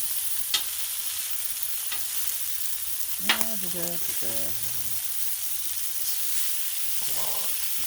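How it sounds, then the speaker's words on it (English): Thin New York strip steaks sear on a Blackstone griddle with a steady, even sizzle. A couple of sharp clicks break in, and a brief voice sounds midway. "I think we are getting a reverse sear."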